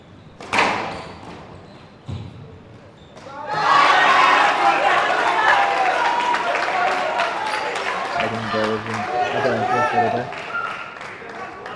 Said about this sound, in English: Indian women's team cheering on their compatriots